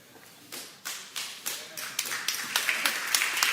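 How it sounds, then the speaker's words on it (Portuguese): Scattered clapping at a church gathering starts sparse and quickly speeds into a quiet, steady run of individual claps, building in density. "Tem que aplaudir Jesus"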